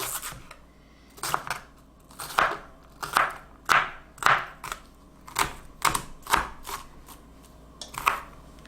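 A knife chopping an onion on a board: a run of about a dozen crisp, evenly paced cuts, close and distinct, with no talking.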